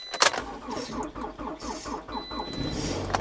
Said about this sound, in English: Okay, does the car start?